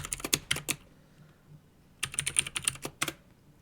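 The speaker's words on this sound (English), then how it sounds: "And then we're going to type our password." Password being typed on a computer keyboard, with two short bursts of quick, close keystrokes separated by a pause of more than a second.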